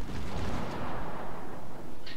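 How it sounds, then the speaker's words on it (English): Heavy naval gunfire in World of Warships rumbles toward the player's ship as one low, booming rolling blast that fades over two seconds. "And now he's firing at me."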